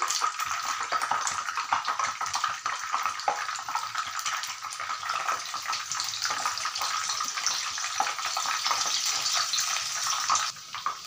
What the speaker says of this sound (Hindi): यहाँ पे हमने दूसरा बैच भी फ्राई कर लिया है बहुत ही क्रिस्पी और बढ़िया